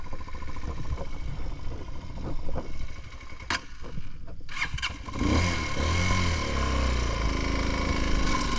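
A motorcycle engine on an outing toward the Zilek Bridge in Diyarbakır, first clattering at a lower pitch, then revving up loud and close around the midpoint and holding a strained, raised drone.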